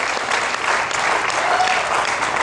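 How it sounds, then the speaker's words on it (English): Crowd applause for the junior eventing medalists at the NAJYRC 2012 championship, sustained and fairly loud, a dense wash of clapping that carries on throughout. "a big round of applause for the bronze, silver, and gold medalists in junior eventing"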